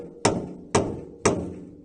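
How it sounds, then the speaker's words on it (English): Three evenly spaced hammer strikes driving long nails into a wooden board, close and crisp, each with a short hollow ring, no talking. "we're going to hammer a bunch of nails into the board."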